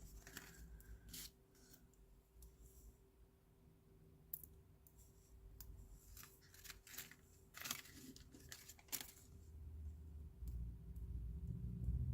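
Scissors cutting into foam mini dimensional adhesive pieces for stamping craft: quiet irregular snips, clicks and rustles at close range over a steady low hum.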